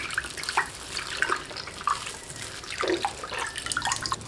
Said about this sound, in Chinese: 搓洗3分钟后倒入清水，把上面的玉米面颗粒洗干净